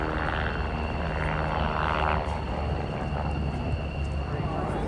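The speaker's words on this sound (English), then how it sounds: "It's a medium-sized, twin-engine, multi-purpose helicopter designed and manufactured by Polish helicopter company PZL Świdnik" A PZL Świdnik medium-sized twin-engine multi-purpose helicopter flies a display at the RIAT air show at RAF Fairford, its engine and rotor roar loud and steady, with a commentator talking over it.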